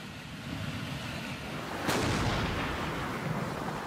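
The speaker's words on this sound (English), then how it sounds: "the Germans opened fire on the navigation channel" Distant German coastal artillery firing on a foggy navigation channel during a WW2 naval battle in the East, heard as a single sharp boom midway through a steady rumbling wash of background noise.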